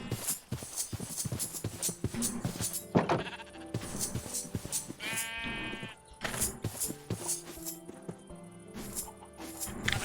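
Sheep bleating in the Minecraft modpack world, several calls over a busy bed of game music and hoof-like clip-clop footsteps, fairly close and moderately loud with no talk.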